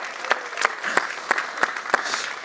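A magic show audience claps for a performer's chicken, Édouard le Poulet, in a rhythmic, unison beat of sharp hand claps at a steady pace, moderately close.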